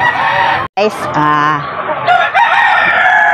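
A rooster crows loudly and close by, one long harmonic call broken by a brief gap, while someone talks over and around it in a farmyard where chickens are being fed in the afternoon.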